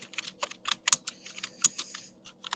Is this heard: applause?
no